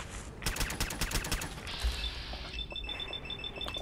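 Rapid bursts of automatic gunfire in the Fallout video game crackle in quick clusters at moderate loudness, then give way to a thinner mechanical tail with faint whines and clicks.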